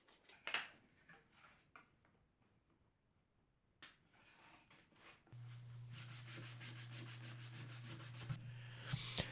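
A wooden box is sanded by hand. Scattered rubbing strokes come first, then a steady run of rhythmic scraping passes over a low hum, all fairly faint, with no talk.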